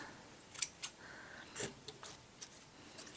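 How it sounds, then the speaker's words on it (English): Scissors snip a yarn pom-pom in a string of quiet, irregular cuts, some in quick pairs, with faint crisp blade sounds in a silent room. "you just go around and you'll trim your spokes a little bit to where they match each other a little better."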